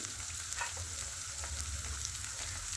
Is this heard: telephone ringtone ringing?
no